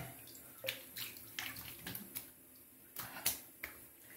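Water splashing as a face is rinsed after shaving, heard as a string of soft, scattered splashes and drips, fairly faint and close.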